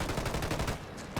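Rapid gunfire from a Ghost Recon Wildlands firefight: a dense burst of closely spaced automatic shots, loud and close, running steadily for about a second with no talking.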